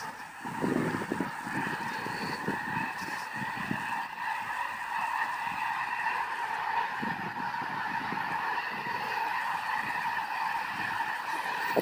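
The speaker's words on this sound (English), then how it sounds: "That's a lot of birds." A large flock of swan-like birds calls over rice fields in northern California, a dense, continuous chorus of honking cries layered thickly throughout, moderately distant and steady, with no talking.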